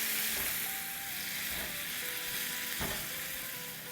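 Potato pieces fry in hot oil in a pan with a steady, even sizzle, moderately quiet and continuous, with a few faint utensil clicks and no talking.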